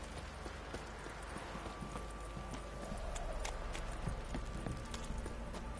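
Horse hooves clip-clop steadily in The Witcher 3, a continuous rhythmic trot heard moderately under game ambience.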